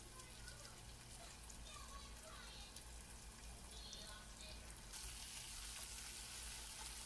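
Faint steady sizzle of green chilies sautéing in oil in a pan for Kerala rasam, continuous hiss throughout, slightly brighter in the last seconds.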